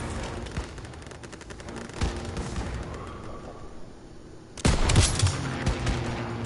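Bursts of rapid gunfire in a World War–style shooter, with an unmanned AA gun, a flak gun and a flamethrower nearby, crackling at moderate distance before a louder, closer volley erupts near the end.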